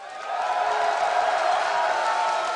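Dignitas fans roar and yell in a packed esports arena at PAX regionals, a dense, sustained crowd cheer that swells and holds at full volume throughout.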